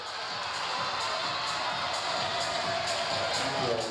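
A student-heavy home crowd at a women's college volleyball match, Pittsburgh against Pepperdine, cheers in a steady, distant roar while a commentator talks over it.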